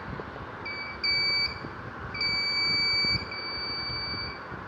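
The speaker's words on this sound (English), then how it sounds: "Its infrared alarm is detected." A buzzer on an Arduino burglar alarm, set off by its infrared sensor, gives two shrill electronic tones, a short burst followed by a longer one after a pause, with a fainter tone lingering under steady background hiss.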